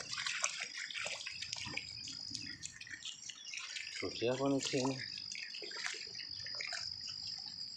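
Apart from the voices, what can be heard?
heavy rain and floodwater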